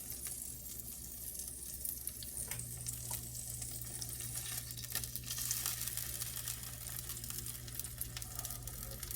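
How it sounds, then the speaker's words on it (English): An egg fries in bacon grease in a cast iron pan, a steady close sizzle with crackles and pops over a low constant hum, no talking. "And my egg's still cooking."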